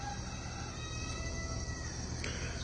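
A rooster crows at a distance at sunrise over a steady outdoor hum, the call faint but drawn out.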